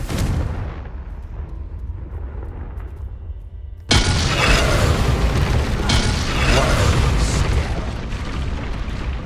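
Confringo fire spell explosion in Hogwarts Legacy during a wizard chess puzzle, a sudden loud blast that bursts into sustained roaring, crackling rumble over a steady game soundscape.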